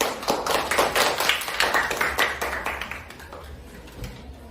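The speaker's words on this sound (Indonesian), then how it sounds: "Tepuk tangan." A classroom group claps for students who have just presented, a dense patter of close hand claps that runs for about three and a half seconds before thinning out into scattered taps.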